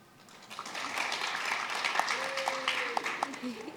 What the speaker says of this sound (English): Nice cheer.